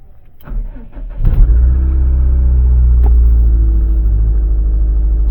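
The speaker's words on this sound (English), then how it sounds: "exhaust doesn't sound so bad now that we have an oxygen sensor in there" A 2006 Subaru WRX STI, freshly tuned with a new oxygen sensor, starts up and settles into a steady, deep idle with its exhaust rumbling loudly and evenly, no voices present.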